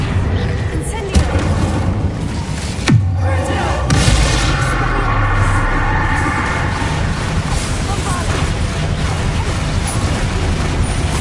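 A fire spell is cast in Hogwarts Legacy during a chaotic fight, a burst of whooshing flame with booming thuds around the three- and four-second marks, mixed into a dense, loud battle din with a voice calling out.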